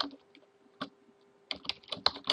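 Fingers typing on a computer keyboard while entering Linux shell commands, with a few scattered taps, then a quick flurry of close, crisp keystrokes over a faint steady hum.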